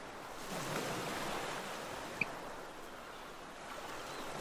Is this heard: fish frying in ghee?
no